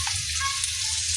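Soybean chunks frying in hot oil, giving a steady, close, bright sizzle with faint bubbling crackle throughout and no talk.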